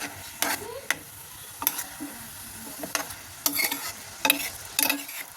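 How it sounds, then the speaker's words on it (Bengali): Meat being sautéed in a pan for baby food, sizzling softly with scattered stirring scrapes and clicks of the utensil, close and fairly quiet, no talking. "এখন এটাকে ভালো করে দেখেন কষিয়ে নিচ্ছি"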